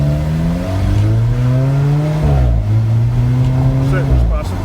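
2015 Alfa Romeo 4C with a turbocharged 1.7-liter engine accelerating hard, close and loud, revs climbing through gear changes with rising and dipping engine tones.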